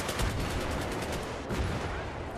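Rapid gunfire in Battlefield 3, a dense, steady stream of close shots with no gaps, loud and continuous throughout.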